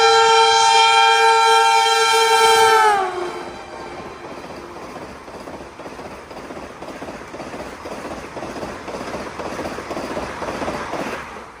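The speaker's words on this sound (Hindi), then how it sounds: "ट्रेन आगे गई और थोड़ी देर में ही वापस आई और इस बार दिखाया कि स्पीड क्या होती है।" A train sounding a long, loud horn blast as it nears, the pitch dropping sharply as it passes at about 170 km/h, followed by a steady roar of wheels and rushing cars clattering by at close range.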